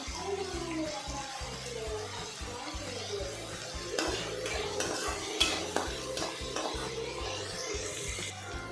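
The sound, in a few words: onion being fried and stirred until soft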